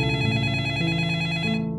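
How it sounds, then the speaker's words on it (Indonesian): A telephone in a film's archive room rings with a steady electronic trilling tone, loud and continuous, shifting pitch in short steps with no voices over it. "telepon dari archive berbunyi kembali"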